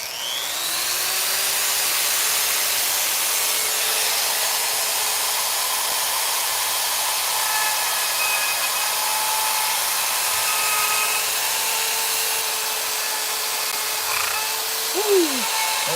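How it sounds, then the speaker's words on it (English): A die grinder fitted with a coarse burr carves the nose holes of a wooden bear sculpture, a loud continuous high-pitched whine that holds steady for the whole stretch, close up with no talking. "With this die grinder, coarse cuts all burr."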